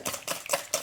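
Four raw eggs whisked in a bowl for a carrot raisin bread batter, brisk rhythmic strokes in short bursts close by, with no talk.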